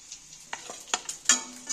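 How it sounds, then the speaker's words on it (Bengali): Boiled eggs frying in a pan, with light scraping and tapping from turning them over and a soft sizzle underneath. The sound is quiet, close and free of speech. "আরও এইটা 1 সেকেন্ড করে ভেজে নেবো উল্টো পিঠগুলো, তাহলে 2 পিঠই ভাজা হয়ে যাবে।"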